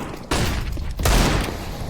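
Pistol gunfire in a Counter-Strike match on the Vertigo map as players push into the B site, two loud, close bursts of shots ringing out with no voice over them.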